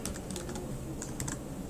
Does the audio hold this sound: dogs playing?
no